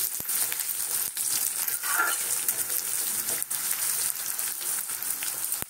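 Onions frying in a pan until half-cooked, a steady close sizzle and crackle running throughout with a few faint stirring clinks, no voices.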